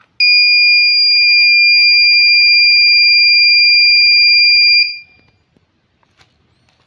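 A steady, piercing electronic tone from a gas leak detector's buzzer, triggered by lighter gas, starts suddenly, holds for nearly five seconds, then cuts off, leaving near silence.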